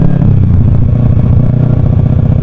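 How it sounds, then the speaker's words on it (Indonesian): A motorcycle fitted with a LeoVince exhaust, not a full system, runs close by with a steady, throbbing low rumble that pulses evenly and holds a loud, constant level throughout. "si knalpot Leovins ini sebenarnya nggak full system"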